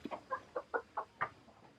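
Chickens cluck inside a homestead chicken coop, a quiet run of seven or eight short, evenly spaced clucks, fairly faint and with no talking.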